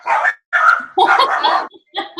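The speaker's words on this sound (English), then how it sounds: "there's a dog outside" A dog outside barks in a quick series of loud, close yapping barks separated by short pauses, heard alone with no talk.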